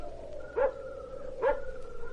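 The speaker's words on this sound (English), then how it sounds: "That barking dog." A dog barks twice, spaced about a second apart, each bark short and clear over a quiet, faintly humming background, sounding moderately distant.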